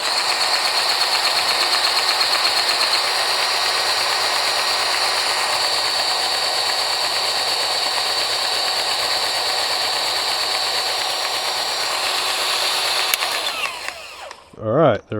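A Seesii electric grease gun runs at its highest setting, a steady loud mechanical whir that holds for about thirteen seconds before cutting off, followed by brief faint handling sounds.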